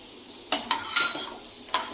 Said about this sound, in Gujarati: હવે આપણે આ સિંગદાણા આખા નાખીશું